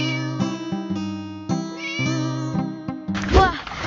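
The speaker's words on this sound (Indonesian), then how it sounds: "Wih, kucing." A cat meows repeatedly in a series of clear, drawn-out cries close by, ending with a rougher, louder yowl.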